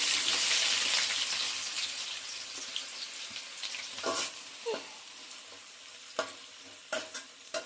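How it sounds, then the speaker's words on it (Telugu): Onions go into hot oil for a home chicken biryani, starting with a loud broadband sizzle that fades, then scattered stirring clinks and scrapes nearby. "ఆయిల్ వేడెక్కింది ఫ్రెండ్స్ ఉల్లిపలు వేస్తున్నాం"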